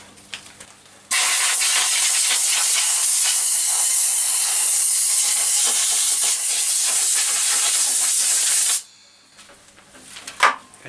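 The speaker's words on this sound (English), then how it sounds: "Then you open the airline and turn on the compressor." An air compressor line opens in a workshop and blows a loud, steady hiss for about eight seconds. It cuts off sharply, leaving faint background noise and a few small knocks.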